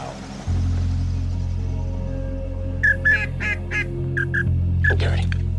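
Ducks and geese honk and quack in a Louisiana marsh at dawn, a cluster of calls over a steady low rumble, fairly close and loud in the middle and end.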